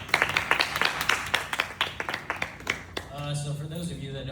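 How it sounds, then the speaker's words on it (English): A crowd claps and applauds, a dense burst of many hands fading after about three seconds, with a voice starting to speak as it dies down. "Please give them another round of applause."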